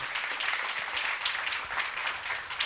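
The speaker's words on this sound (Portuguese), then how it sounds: "Vamos aplaudir ao Senhor Jesus?" A church congregation applauds together, dense steady clapping that fills the room for a few seconds with no voices on top.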